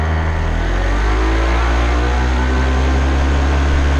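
Paramotor engine held at full power, a loud, steady, close drone with strong low harmonics that stays constant without a break, with no voices over it.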